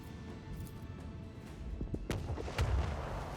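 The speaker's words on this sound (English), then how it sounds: "Salvo! Torpedoes away! Let the void sort them out!" Torpedo salvo launching in the video game Warhammer 40k: Rogue Trader, heard as a few deep booming thumps over a low rumbling background, with the strongest hits near the end.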